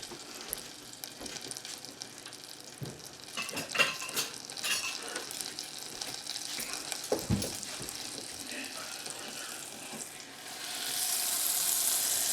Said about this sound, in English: once that butter is melted, we'll add 2 tablespoons of flour